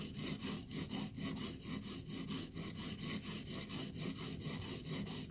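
A chipped knife edge being reground on an abrasive stone to remove nicks, heard as a steady, loud back-and-forth scraping rhythm repeated many times in close-up, with no talk.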